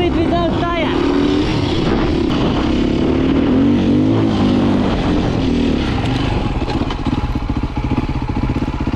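A Ducati dirt bike rides along the seaside, its engine buzzing loud and steady close to the mic with wind rush and shifting revs, while a rider talks over it.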